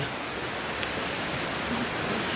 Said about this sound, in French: Là, vous allez re-entendre les cascades.